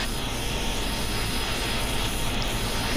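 F-22 Raptor jet engines spooling up in a flight sim game, a loud, dense, unbroken roar and whine holding steady throughout, with no voices.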